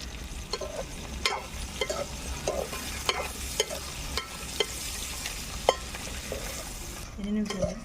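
Turmeric and tamarind fry in a pan with a low, steady sizzle, while a utensil makes repeated light scrapes and taps against the pan at an even rhythm, close by.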